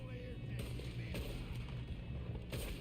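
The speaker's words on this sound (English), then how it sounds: "We just shot him in the chest." Faint gunshots in the video game Red Dead Redemption II: three sharp cracks spaced unevenly over a steady low game soundscape.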